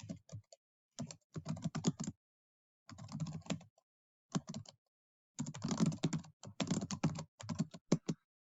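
Someone types on a computer keyboard in quick bursts of rapid clicking keystrokes, separated by short pauses; close and crisp, with no talking.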